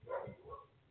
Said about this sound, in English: I hear some dog just barking hysterically.